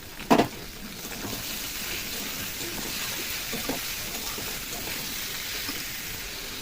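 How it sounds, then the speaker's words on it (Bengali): Boneless chicken pieces dropped into a pan of frying potatoes and onions give a brief loud thump, then settle into a steady, even sizzle that holds near and unbroken with no voices. "আলু আর পেঁয়াজটা ভাজা হতে হতে আমি কিন্তু চিকেনগুলো দিয়ে দেবো।"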